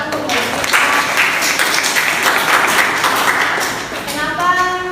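Students in a university classroom clap for a classmate, a dense, moderately loud patter of hands that carries through most of the moment and fades as a voice begins speaking near the end.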